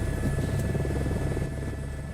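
Helicopter in Microsoft Flight Simulator 2024 whirring at a steady, loud drone with a constant rotor hum, heard alone without voices.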